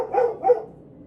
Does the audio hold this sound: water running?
no